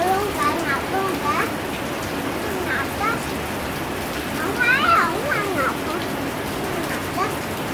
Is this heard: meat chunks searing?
no